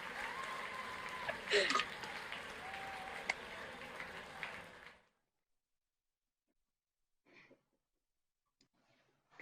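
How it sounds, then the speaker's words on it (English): Applause at an online university graduation comes through unmuted microphones, a patchy mix of scattered clapping, breaths and background noise for about five seconds, then cutting to near silence with a few faint stray sounds. "if I can ask you to unmute your microphones and a round of applause, please"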